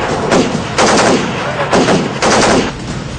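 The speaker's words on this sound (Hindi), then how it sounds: "पाकिस्तानी गोलियां भारतीय सीमा में बरस रही हैं" Repeated bursts of automatic gunfire from a Pakistani ceasefire violation at Line of Control posts in the RS Pura sector ring out loud and close, in three or four sustained rattling volleys separated by short pauses.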